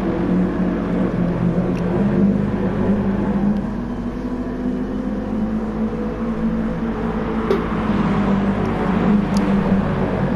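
Racing cars in a sim racing Cup Series event at Circuit de Barcelona-Catalunya, with a Mercedes overtaking, produce a continuous, fairly loud engine drone that shifts in pitch throughout, with no talking.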